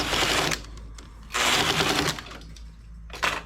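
A domestic knitting machine fitted with a ribber knits two rows as the carriage makes two loud, rasping sweeps across the needle bed, followed by a brief mechanical clack, with no talking.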